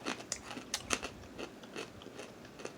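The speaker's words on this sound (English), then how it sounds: "Very crunchy." Nagaraya garlic cracker nuts are chewed close up, giving a quiet series of irregular crisp crunches with no talking.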